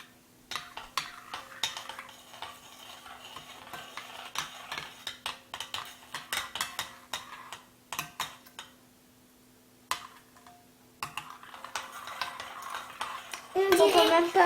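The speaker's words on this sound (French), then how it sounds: "On mélange avec la cuillère à soupe." A soup spoon stirs a pot of homemade glue-free Halloween slime, making many irregular clinks and scrapes against the bowl, some near and loud, with brief pauses and a voice speaking at the end.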